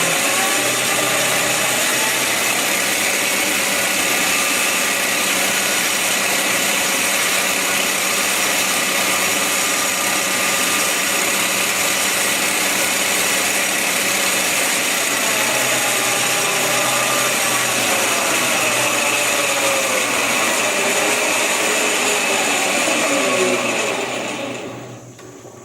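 A PM 1228 metal lathe runs steadily after a gear change, a loud continuous motor whine with a shifting hum, close and alone for about twenty-five seconds before fading slightly at the end.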